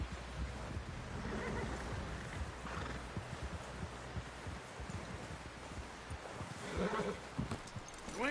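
A horse in Red Dead Redemption 2 whinnies and snorts over clip-clopping hooves, close and fairly loud, amid rustling outdoor ambience with no clear speech.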